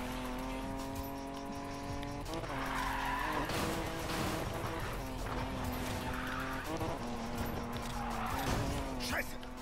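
Fast car in the racing game Need for Speed Payback, with a steady engine drone and tire skids running throughout, loud and close, with brief surges and screeches partway through.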